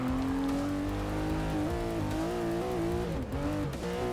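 A race car engine in the Forza 6 video game drones loud and steady, its pitch climbing and dropping as it revs through the gears, with no talking over it.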